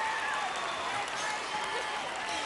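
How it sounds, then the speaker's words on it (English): A large studio crowd at a Gladiators semi-final roars and cheers wildly in a dense, continuous wall of noise, with clapping blended into the steady din. "And the crowd are going berserk."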